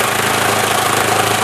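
A Bedini Newman motor spins very fast, its steady buzzing hum unbroken and fairly loud throughout, with a dense rattling texture and no talking.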